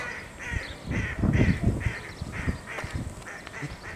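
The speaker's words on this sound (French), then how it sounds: "il y a un canard" A series of loud, repeated quacks from a duck near a harbour basin, outdoors, following one another in a steady rhythm with no talking.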